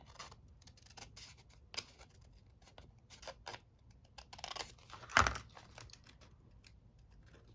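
Scissors cutting through a paper envelope, several quick crisp snips at close range with one louder cut near the end and no talking.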